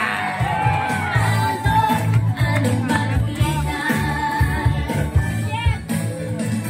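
Loud, continuous crowd noise at a Caloocan city gathering for Mayor Along Malapitan, with shouts, whoops and yells layered over a dense roar that swells and dips across several seconds.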